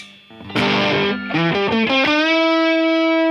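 A 1986 PRS Custom 24 electric guitar with heavy distortion plays a few quick notes, then a sustained buzzing chord rings out loud and close.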